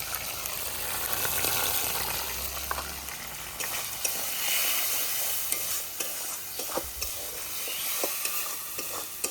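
Spices frying with salt and turmeric in a wok (kadai) for a potato, pointed gourd and paneer curry, giving a steady close sizzle with scraping stirs throughout and no talk.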